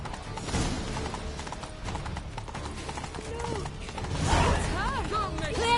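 Rhythmic clip-clop of a horse's hooves galloping under a rider in The Witcher 3, steady and close, with game music, a brief whinny and talk over it.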